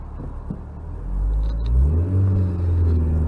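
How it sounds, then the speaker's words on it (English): A 1999 Honda Prelude accelerating, its engine rising from a low idle into a loud, steady, smooth rumble with climbing pitch, heard up close and alone. "Nice smooth acceleration."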